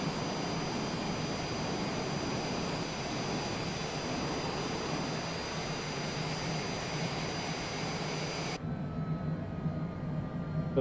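A jet airliner's engines roar loudly and continuously from outside the plane in Microsoft Flight Simulator on Xbox Series X, a steady broadband drone with high whine tones flying over Oslo.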